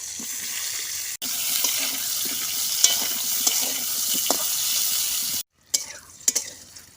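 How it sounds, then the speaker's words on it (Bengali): Salted, turmeric-rubbed pointed gourd (potol) pieces fry in mustard oil with a steady hiss and spatter, interrupted by a brief gap and then sharper knocks and clatter of cookware near the end. "পটলগুলোকেও তেলের মধ্যে দিয়ে দিচ্ছি পটলগুলোকেও ভালোভাবে ভেজে নেব"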